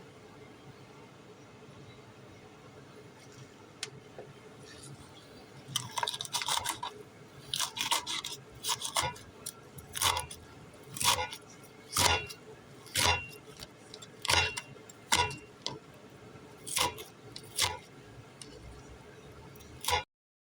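Ridge gourd peel being chopped finely with a knife on a board, a series of crisp regular cuts starting softly and settling into an even rhythm, close and moderately loud over quiet background.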